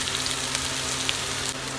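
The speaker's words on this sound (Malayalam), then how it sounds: "ഒരു പാനിലേക്ക് വെളിച്ചെണ്ണ ഒഴിച്ച് സവാള കട്ട് ചെയ്തത് ഇട്ട് കൊടുക്കാം" Onions sizzle in hot coconut oil, a steady, close crackling hiss that holds evenly throughout with no voices.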